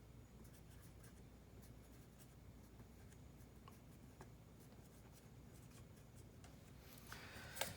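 Marker strokes squeak and tick faintly across a whiteboard while a force vector is drawn straight up, short scratchy bursts over a steady low room hum, with a brief louder squeak near the end.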